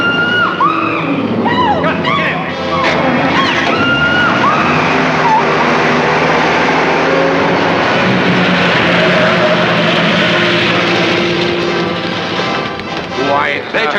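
A stolen car races away with a loud, sustained engine roar that swells and holds, with a brief squeal of tires early on under busy, dense 1940s film soundtrack noise.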